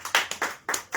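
A church congregation claps hands in praise, a few quick uneven bursts of close, sharp claps with brief gaps between them.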